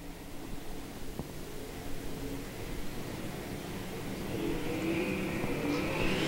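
Race cars under green flag racing at Valley Speedway during the Weld Family Memorial Race produce a steady engine drone that swells slightly as the field approaches, heard from a distance.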